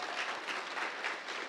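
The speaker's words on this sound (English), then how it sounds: "Can we get a round of applause for them?" At a furry convention's opening ceremony, the audience gives the main-stage tech team a round of applause, a full, steady crowd clapping heard from the hall at an even level throughout.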